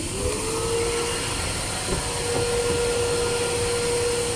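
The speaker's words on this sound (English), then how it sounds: "this is the vacuum cleaner. So what this does is like you have to clean the interior of the car." A vacuum cleaner at a self-service car wash runs with a loud, steady whine and a constant airy roar, close by and unbroken.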